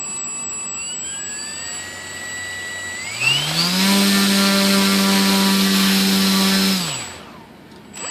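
Electric motor of an E-flite Conscendo S RC glider with a repaired folding prop: a high whine sweeps up sharply, holds loud and steady for a few seconds, then winds down when the throttle cuts, with no talk.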